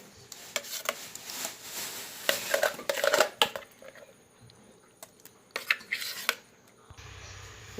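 Chopped jackfruit is moved into a cooking vessel in a home kitchen, with sporadic clinks and clatters of utensils against the pot, close by, separated by quieter gaps.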